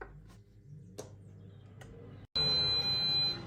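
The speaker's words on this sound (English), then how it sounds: "And we've beeped." An air fryer gives a loud, sustained high-pitched electronic beep that starts abruptly after quiet ticking and hum, then cuts off near the end.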